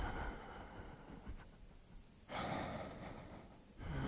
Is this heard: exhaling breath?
yes